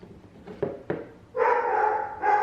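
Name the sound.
dog barking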